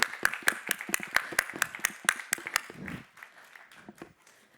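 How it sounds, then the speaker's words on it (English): Audience applause at a food science forum greets a panel of chefs, starting as a few loud, distinct claps that thin out and fade within a few seconds, with faint low murmuring near the end. "How about another round of applause for these superstars?"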